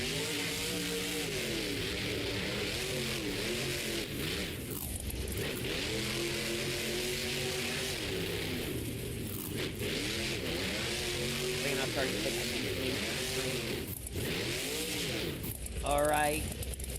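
The Scooby-Doo monster truck roars around a Monster Jam arena in Berlin. Its engine revs rise and fall in repeated loud surges over a continuous din, and voices are heard over it.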